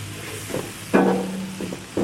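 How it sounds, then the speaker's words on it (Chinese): Ginger hitting hot oil in a wok for stir-frying, a brief loud sizzle bursting in near the middle and holding steadily, with a few softer stirring scrapes before and after. "接着姜先进来爆香"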